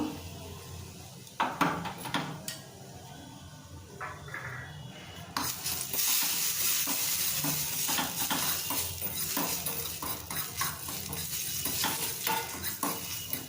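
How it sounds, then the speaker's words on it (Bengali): Crushed dry-roasted spice mix frying in hot ghee in a bowl on a gas stove for a chicken curry. A soft sizzle swells into a continuous hiss, with scattered clinks and scrapes of a utensil stirring against the pan. "মশলাটাকে আমি ভাজা করে নেব"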